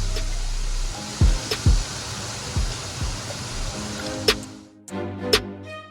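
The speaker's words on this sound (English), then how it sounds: "I just added oil to the pot. The pot was already hot." Oil hisses and sizzles in an already hot pot for Alfredo sauce, a close, steady crackling wash broken by a few soft clunks and light taps.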